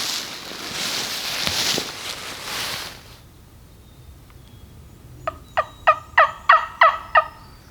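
Wild turkeys gobble in Alabama big woods: after a stretch of rustling, a close bird rips out a rapid burst of sharp gobbles, loud and clear against quiet surroundings.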